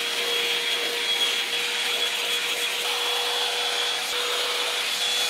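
A hair dryer blowing steadily, a constant airy whoosh with a faint high whine, close and loud for several seconds without talk.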